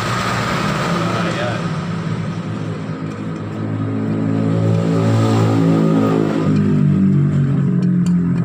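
A Yamaha FIZ R motorcycle engine revs continuously at close range, its steady mid-pitched drone rising in intensity partway through, with voices talking over it.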